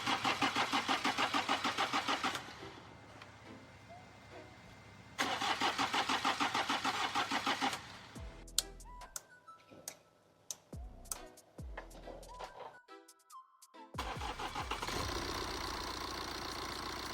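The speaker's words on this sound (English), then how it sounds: "So as you can see, the Beamer started as expected." A 2016 BMW 518d with a B47 diesel, on a cold start after a timing chain job, cranks in two long starter bursts, then catches and settles into a close, steady clattering idle, with ticking and clanks in between and no talk.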